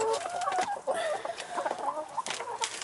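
Sex Link chickens cluck close by in a busy, overlapping run of short, bright calls, several birds sounding at once in quick irregular bursts.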